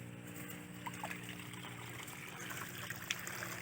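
Transfer pump moving water between crayfish tanks, a steady trickling and splashing stream over a constant low mechanical hum, with small splatters scattered throughout.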